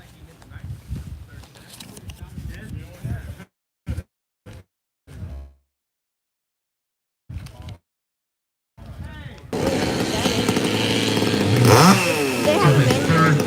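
A saw tears through a wood log at a timed cutting competition, the loud, sustained engine roar starting partway through after a stretch of commentator talk and short pauses.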